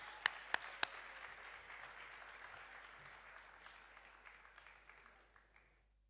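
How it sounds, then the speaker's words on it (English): An audience at a conference gathering breaks into applause, opening with a few sharp claps before settling into a sustained clatter that gradually fades away. "So I'd ask you to give her a round of applause."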